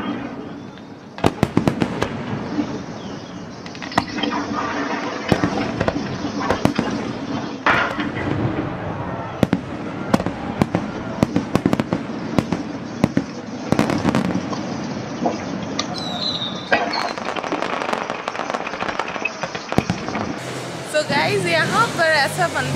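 Fireworks and firecrackers burst repeatedly on Swiss National Day night in Interlaken, sharp cracks and bangs at irregular intervals for over twenty seconds amid crowd babble and people talking nearby, with whistling rockets near the end.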